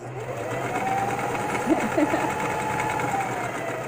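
A sewing machine stitching free-flowing fabric runs in a steady, moderately loud mechanical whir, with a brief shift in tone midway, and no talk heard over it.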